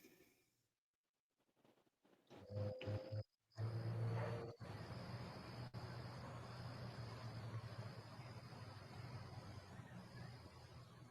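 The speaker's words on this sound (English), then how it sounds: "I think I heard Godzilla roar." A deep, rumbling monster-like roar attributed to Godzilla swells in after a few short bursts and then drones on loudly, with a high thin tone running over it.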